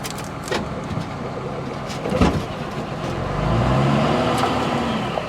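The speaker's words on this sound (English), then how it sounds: "Uh-oh, it's trying to crank." A 1983 Mercedes 240D diesel struggling to crank, with a few clunks and clicks followed by a low laboured starter churn that rises and holds near the end, close by with no speech.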